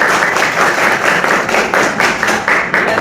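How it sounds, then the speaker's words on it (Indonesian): Applause from a classroom audience at the close of a lesson, a dense, steady patter of many hands clapping together for about three seconds with no talk over it. "Tepuk tangan untuk kita semua hari ini ya."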